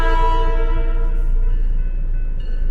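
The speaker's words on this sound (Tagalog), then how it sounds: "So, may padaan na train." A train sounds its horn close by as it passes, sustained harmonic blasts holding steady and loud for the whole stretch with no talking.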